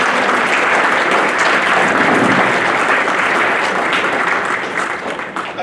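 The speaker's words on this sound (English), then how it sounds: "let's give them a round of applause for their support of you" A school audience at a National Junior Honor Society induction ceremony applauds loudly and steadily, a dense wash of clapping that starts at full strength and tapers off slightly near the end.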